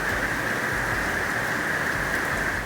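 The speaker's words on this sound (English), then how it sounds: "It's hot, it's humid, and it's monsooning rain, and it sounds a lot like the tropics." Heavy monsoon rain in a hot, humid summer garden makes a dense, steady hiss that stays loud and constant throughout, with no talking.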